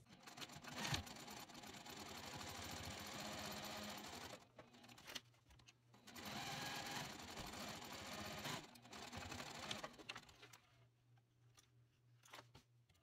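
A sewing machine stitches a dog collar bandana, back-stitching at the start and stop. Two loud, steady runs of stitching are split by a brief pause, then a quieter stretch follows, with no talking.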